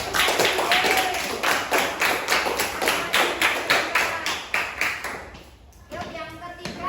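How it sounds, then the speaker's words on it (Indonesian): A class claps along together in quick, steady applause, a run of sharp, even hand claps that continues for several seconds before breaking off, then picks back up briefly near the end. "Kita beri tepuk tangan dulu."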